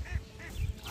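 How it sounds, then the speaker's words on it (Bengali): Ducks quack on a wetland in the rain, giving a few short nasal calls at moderate distance against a soft, steady background wash, with no one talking. "এখানে কিন্তু হাঁসও আছে"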